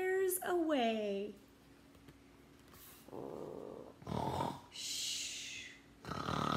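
A voice imitates a lost kitten snoring in the hay, with slow nasal snorts and breathy rasps in an irregular rhythm. Close and fairly quiet, with a few vocal squeaks between the snores.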